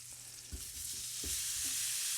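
Butter sizzles in a pan before broccoli goes in, a steady close hiss that builds slightly, broken by a few soft utensil knocks against the pan.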